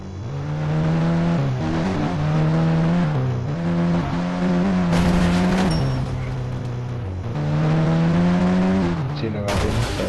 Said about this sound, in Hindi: अपनी स्कॉर्पियो को भी जल्द से जल्द रखते हैं घर के अंदर। जल्द करते हैं सीधा बैक, और बैक ही ले जाएंगे घर के अंदर।